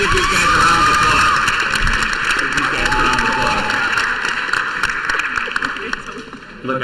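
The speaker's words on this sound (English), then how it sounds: "let's give these guys a round of applause." An audience at a school finalists' event applauds, sustained clapping from a crowd that holds steady and then gradually fades toward the end.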